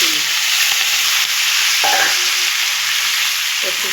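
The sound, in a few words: taro frying and being stirred in oil with panch phoron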